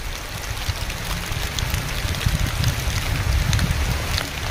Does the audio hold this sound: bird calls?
no